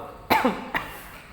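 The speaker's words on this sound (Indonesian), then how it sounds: "Batuk lagi." Two coughs, a strong one followed by a shorter, weaker one, close by with no talking.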